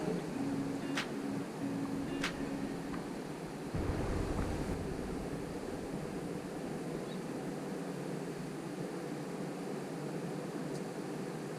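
Waves and wind at the Darwin waterfront near Cullen Beach Marina, a steady soft wash of surf under gusty wind noise, fairly faint and continuous with no talking.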